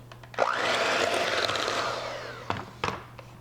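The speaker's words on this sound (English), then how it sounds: "we are going to blend this and add the whisk right in, and then we're going to blend until everything's nicely incorporated" An electric mixer beats butter and sugar for Valentine's Day cookies, a loud close motor whine that runs for about two seconds and then fades, followed by a few short clatters.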